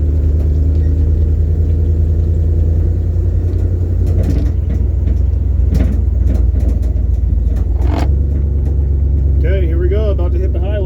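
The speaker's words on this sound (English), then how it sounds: "the guy here is just driving his Buick illegally for the first time" A stripped Buick Skylark drives on a city street, its low engine rumble loud and close inside the cabin, with clunks and rattles and a voice talking over it.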